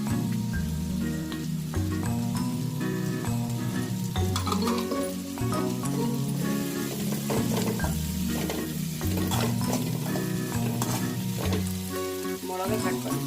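Capsicum and coriander stir-frying for Tamil-style poha: a steady, dense sizzle runs throughout, broken by frequent scraping stirs and clinks of a spoon against the pan, close and fairly loud, with no voices.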